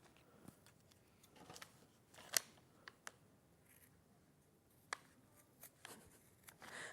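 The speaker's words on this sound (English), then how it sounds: "I would use scissors." Scissors snip in a sewing studio during quilting work, making a series of sharp, close clicks and crisp cuts spaced irregularly over soft background noise, with no talk.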